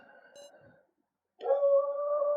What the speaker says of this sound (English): but then I just hear a howl